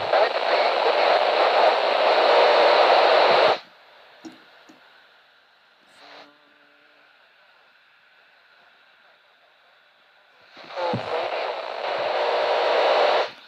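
Satellite radio signal received on a handheld radio as the satellite passes overhead and moves away, heard as bursts of loud hissy static that drop to a faint tonal hum in the middle before the noise returns, with no talking.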